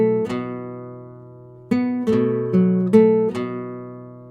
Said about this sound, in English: Then we do a hammer-on from the G to the A, but hitting the pedal tone on the A.